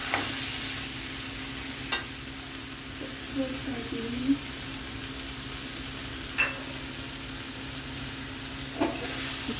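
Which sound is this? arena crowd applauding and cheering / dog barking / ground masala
ground masala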